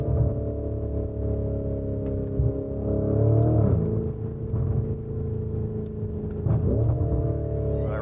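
Lamborghini Urus engine in Corsa mode with manual paddle shifting, pulling hard as revs climb through the gears; each paddle shift briefly dips the note before it builds again. The steady, loud drone runs alone, with no voices.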